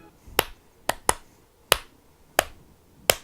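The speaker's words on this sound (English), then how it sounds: "If you were to just clap the rhythm, it sounds like..." Six sharp hand claps tapping out an uneven melodic rhythm, crisp and close, with quiet gaps between them.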